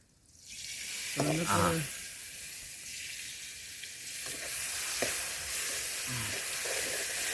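Ginger garlic paste hits hot oil with a sudden loud sizzle that settles into a steady crackling fry, with a few utensil scrapes as it is stirred.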